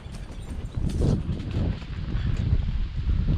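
A horse's hooves clip-clop on a windy ride outdoors, heard close but partly buried under heavy, steady wind buffeting the microphone.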